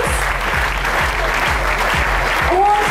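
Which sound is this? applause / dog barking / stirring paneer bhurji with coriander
applause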